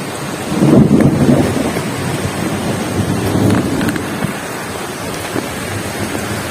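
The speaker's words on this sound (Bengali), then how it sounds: "শিলাবৃষ্টি হচ্ছে, শিলাবৃষ্টি" Heavy hailstorm pelting down, a dense continuous roar with low rumbling swells, loud and close throughout with no voices.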